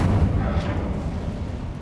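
A fire spell, Incendio, is cast in the video game Hogwarts Legacy, giving a loud, low rumbling burst of flame that roars steadily for under two seconds with no pause.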